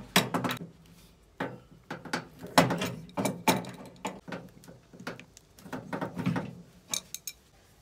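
Air conditioner hose fittings being connected and tightened by hand, giving a close run of irregular metallic clicks, ratcheting taps and scrapes with brief pauses between bursts.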